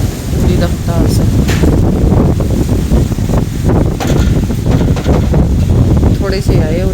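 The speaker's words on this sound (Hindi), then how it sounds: "आंधी चल रही है पूरी रफ्तार से।" Strong gusting wind of an evening dust storm roars steadily against the microphone, loud and continuous, with a voice faintly present beneath.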